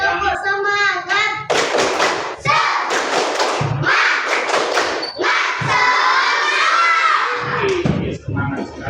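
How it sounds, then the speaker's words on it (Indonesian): Classroom pupils perform a rhythmic spirit clap with a teacher, sharp bursts of clapping and stamping alternating with children shouting and chanting in unison, loud and close, with pauses between rounds. "ayo tepuk semangat dulu. Tepuk semangat."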